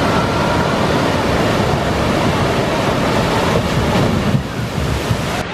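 Water splashing in a theme park splash zone at Universal Studios, a loud, continuous rushing wash of spray and spattering water that runs unbroken throughout with no voices.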